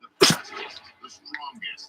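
A single sharp sneeze bursts out near the start, followed by people talking.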